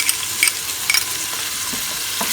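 Ginger and garlic fry in hot oil for a beef masala biryani, a close, continuous hiss and sizzle broken by a few brief stirring clicks, with no talk.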